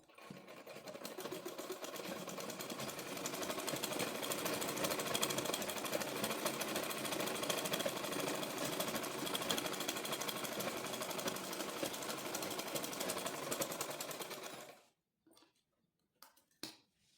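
A sewing machine runs steadily for about fifteen seconds, stitching a seam on palazzo pants opposite the pocket, a close, even mechanical whir that stops abruptly, followed by a few faint clicks and handling noises.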